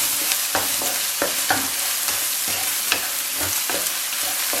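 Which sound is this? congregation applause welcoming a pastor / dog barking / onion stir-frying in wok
onion stir-frying in wok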